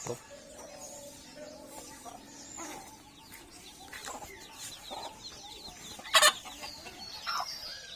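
Naturally raised farm chickens cluck softly and steadily in a village farmyard, with one sharper, louder call breaking through near the end.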